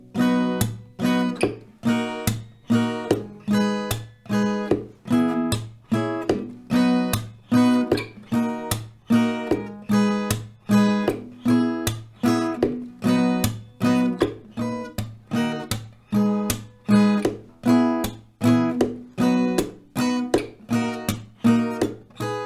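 An acoustic guitar plays a steady strummed rhythm for a chord progression, with crisp, evenly spaced down and up strokes that repeat round after round, close and clear with no voice.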